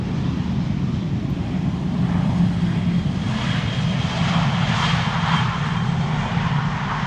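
An Aer Lingus airliner in the new standard livery with the Shamrock name rumbles steadily at Schiphol Airport, a continuous broadband engine roar holding at moderate loudness with a faint rising whine above it.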